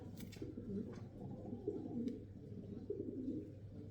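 A racing pigeon hen held in the hands coos in a repeated, low, throaty rhythm, close by and steady throughout with no talk.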